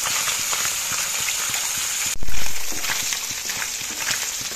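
Fish pieces frying in hot oil in a pan for an Assamese traditional fish curry, a steady dense sizzle with a sudden louder burst as more fish hits the oil, then continued crackling.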